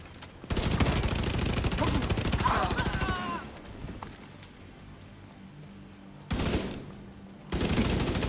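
Rapid automatic gunfire from the shooter game The Division 2, long loud bursts of close shots with a brief pause of quieter ambience, then two more sharp bursts, with speech mixed in.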